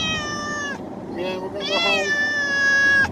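A cat meows in long, drawn-out, insistent cries, loud and close, with someone talking over it in between.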